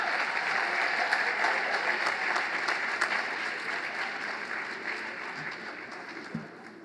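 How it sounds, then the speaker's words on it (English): A high school awards ceremony audience claps steadily for the music department, a moderately dense round of applause that gradually thins and fades toward the end. "I would like a loud round of applause for our music department"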